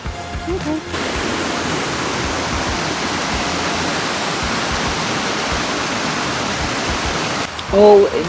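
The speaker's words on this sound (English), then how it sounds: "did I mention I love the roar of the waterfall?" Waterfall in the Georgia mountains, its roar a constant close wash of falling water, with brief sounds of a person at the start and end.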